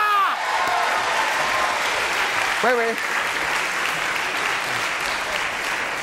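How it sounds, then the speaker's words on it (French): A television studio audience breaks into loud, sustained applause with some cheering as a guest arrives on a French variety show, while a few voices briefly speak and exclaim over the clapping. "Applaudissements, le voilà."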